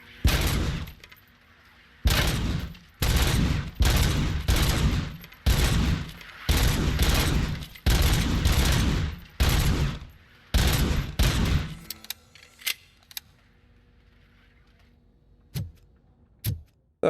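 A gun fires a long series of loud, evenly spaced shots at a test range in RoboCop: Rogue City on PC, then stops, leaving faint clicks and a few isolated sharp sounds.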